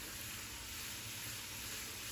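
Chopped onion frying in a pan, a quiet, even hiss of sizzling oil that holds steady throughout with no talking.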